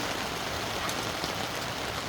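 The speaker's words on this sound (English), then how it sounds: "I just wish it would rain harder." Steady rain falls outside, a dense even hiss with no breaks and no voices.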